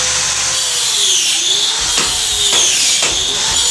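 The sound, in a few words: workers cutting out portions of damp cracked wall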